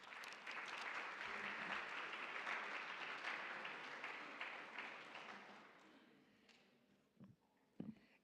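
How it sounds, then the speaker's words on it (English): Audience applause at a college ceremony celebrating writing contest contributors, a steady broadband clatter of many hands that tapers off over the final seconds, leaving a few faint stray sounds. "Let's give a great big round of applause to our own Miriam Barton"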